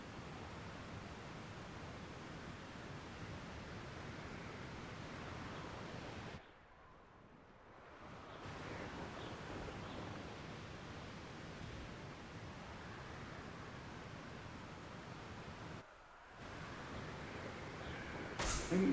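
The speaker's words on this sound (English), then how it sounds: "I think the game likes me being near that waterfall." A steady rushing waterfall roars in a video game, broad and even, dropping out briefly twice before returning at the same level.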